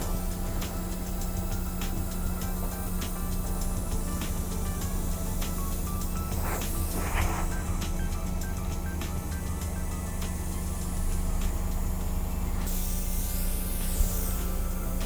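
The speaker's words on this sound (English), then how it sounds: "I'm going to spray into the lines in the same direction" An airbrush sprays foundation makeup with a steady, soft, hissing stream that runs throughout, joined by a faint constant hum.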